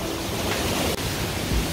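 Mujoochae Waterfall in Gapyeong, a large cascade between Gyeonchisan and Mindungsan, gives a steady, loud broadband roar of falling water close by, unbroken throughout.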